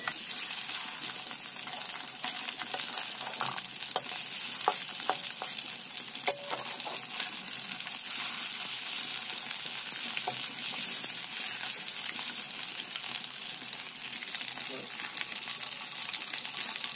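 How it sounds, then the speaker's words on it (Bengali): Shing fish fry in oil in a wok, a continuous close hiss and crackle with scattered sharp pops that holds evenly throughout. "এবার কড়াইতে তেল দিয়ে এর মধ্যে মাছগুলোকে খুব ভালো মতো ভেজে নেব।"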